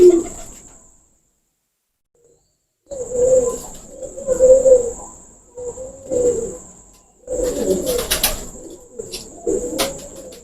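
Golden pigeons coo close by in repeated throaty bursts separated by short pauses, with a thin insect-like whine running over some of the calls.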